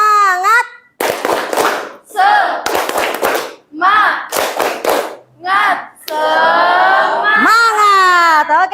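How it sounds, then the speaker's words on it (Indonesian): Group of people in a classroom-style session doing a rhythmic spirit clap routine, bursts of synchronized hand claps alternating with chanted voices and a leader's talk. "Tepuk semangat."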